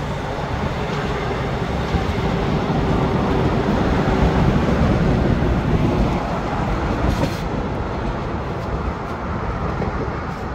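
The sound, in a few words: trains running on an old bridge in South Korea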